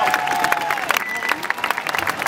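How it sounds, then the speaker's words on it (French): A rodeo crowd at the Equiblues event applauds and cheers, a dense burst of clapping with scattered shouts, under the announcer's voice and some music. "Sébastien Aguilar sur un applaudissement"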